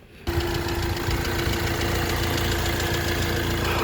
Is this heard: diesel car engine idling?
yes